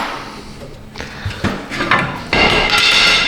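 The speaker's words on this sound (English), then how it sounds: "Drop your pry bar on the floor." A metal pry bar dropped onto a workshop floor while working on a Ford F250 front axle U-joint, with a few knocks and then a loud, sustained clattering crash up close.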